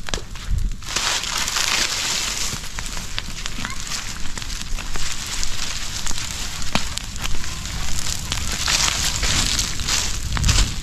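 Rice husks burning in a field fire, a steady loud crackling hiss with scattered sharp pops throughout, close by and continuous.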